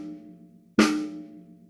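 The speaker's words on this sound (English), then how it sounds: "and the snare drum." One crisp snare drum hit in a kindergarten music lesson cracks out over a steady low hum, its rattling buzz decaying over about half a second.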